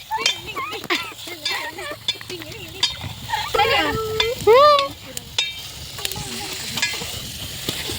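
Chicken pieces sizzling in a pan outdoors near a field while being stirred, a steady fry under frequent nearby chatter and occasional clinks of a utensil.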